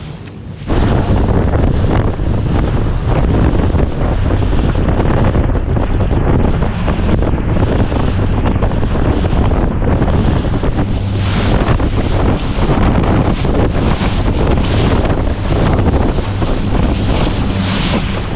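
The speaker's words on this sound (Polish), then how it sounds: "Są krzyżowe fale, są potężne te fale." Loud, constant roar of wind buffeting the microphone over heavy surf on the Dutch coast, with powerful cross waves crashing close by and no break in the noise.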